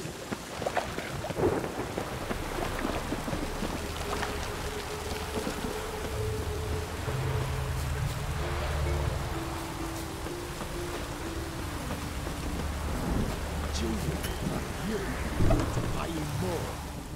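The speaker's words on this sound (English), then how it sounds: "Let it rain." Steady rain with low rumbling thunder rolling throughout in the video game The Witcher 3, joined by faint talk and brief tonal sounds in the background.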